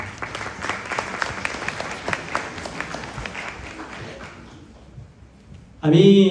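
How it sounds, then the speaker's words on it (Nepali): An audience claps steadily at a Nepali community gathering introducing BCC UK. The dense applause fades out after a few seconds, and a voice then starts speaking over a microphone. "यो सफलताको लागि हजुर सबले आफूलाई धन्यवाद दिएर एकपटक ताली दिनु होला।"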